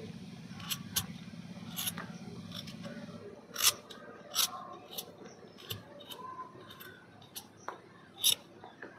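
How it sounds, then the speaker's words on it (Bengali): Market vegetables being peeled by hand, with a series of short, crisp scraping and clicking strokes at irregular intervals, close and fairly quiet, over faint low background noise and no talking. "সবজিগুলো এবার আমি ভালো করে ছুলে নেব।"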